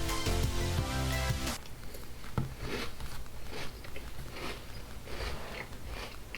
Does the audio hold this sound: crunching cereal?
yes